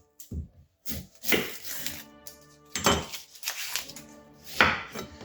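A kitchen knife dices an onion on a chopping board, giving irregular bursts of close, crisp chopping knocks separated by short pauses.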